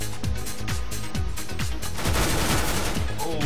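A P90 submachine gun in a video game fires in loud, rapid repeated bursts, each shot sharp and punchy, building into a steady stream of fire over a few seconds with faint talk underneath.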